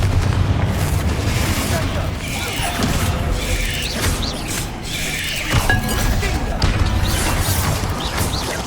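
Bombarda and Confringo spell blasts from Hogwarts Legacy, a dense, continuous barrage of booms and crashes that rumble close and loud through the whole stretch, with sharper impacts standing out near the middle.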